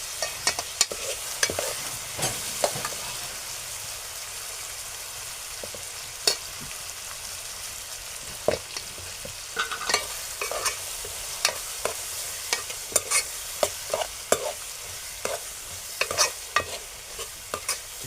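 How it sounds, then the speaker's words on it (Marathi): Onion sautés in a pan for a bitter gourd dish, with a quiet, even hiss of frying under frequent sharp scrapes and taps as the spatula keeps turning it. "कांदा चांगला तांबूस होईपर्यंत आपल्याला परतून घ्यायचा आहे"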